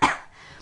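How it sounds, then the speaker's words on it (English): A single short cough bursts out sharply at the start, then fades into a quiet room tail with no further sound. "why does filming make me cough?"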